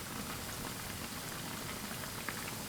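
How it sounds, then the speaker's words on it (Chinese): Sugar cakes made from flour dough deep frying in oil over medium heat, a steady dense bubbling crackle with no pauses, close and moderately loud, with no talk. "全程保持中火慢炸"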